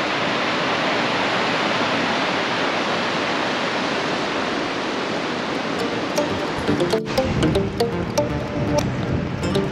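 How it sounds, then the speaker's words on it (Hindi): A Himachal mountain stream (khadd) rushes with steady, dense white noise that fills the whole stretch, and some faint clicks and rustles come in near the end. "यहाँ पे देखो हिमाचल का जो खड्ड बोलते हैं उसका पानी है"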